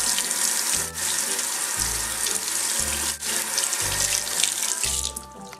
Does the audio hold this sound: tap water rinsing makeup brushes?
yes